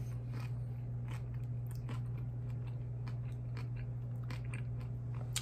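Someone biting and chewing crunchy beef tripe tacos with salsa, heard up close as repeated wet crunches and bites spread through the clip over a steady low hum, with no talking.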